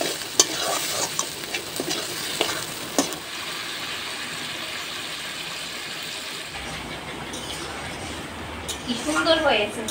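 Potatoes stir-fried in a pan for egg biryani over a clay stove, a steady sizzle with scraping stirs and occasional clatter throughout, close and moderately loud, with some speech mixed in.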